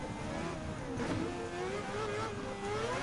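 A rotary-engined Group C Le Mans race car in Gran Turismo 7 drones at a steady, moderately quiet pitch that sweeps up and down as the revs rise and fall.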